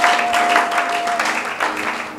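A church congregation applauds during a French-language service, a steady wash of clapping from many hands that thins slightly toward the end, with a voice speaking underneath.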